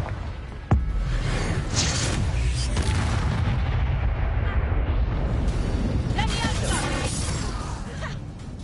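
Confringo fire-spell explosions in the video game Hogwarts Legacy, with a sharp blast followed by a sustained roaring, rumbling wash of booms and crackle, with voices underneath.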